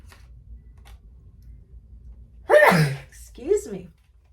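A sudden, close sneeze bursts out after a quiet stretch, followed by a shorter breathy vocal sound.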